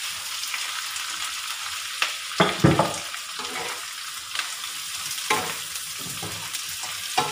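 Fried pork is returned to a pan and stirred for Filipino humba, with a steady sizzle of frying throughout and several sharper clatters of the utensil scraping and tossing the meat. No voices are heard.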